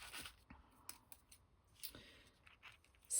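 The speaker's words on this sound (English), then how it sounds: "cut the napkin down while it's thick enough to cut, really." Scissors snipping through a thick paper napkin, a handful of short, crisp cuts and rustles spaced apart in a quiet room, close and fairly faint.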